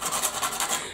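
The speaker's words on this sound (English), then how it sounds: "So with a little bit of sandpaper," A seed is rubbed with a small piece of sandpaper, giving a brief, close, rhythmic scratchy rasping of several quick strokes, with no voices.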